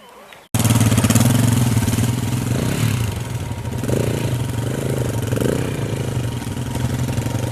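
Adventure touring motorcycle on a rough climbing trail in Bulgaria: the engine fires up after a brief quiet moment and then runs loud and close, idling with a few throttle blips, and voices are faintly audible underneath.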